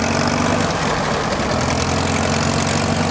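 Minneapolis-Moline U tractor engine running loud and close, a steady rough mechanical rumble with a throbbing low drone that holds throughout.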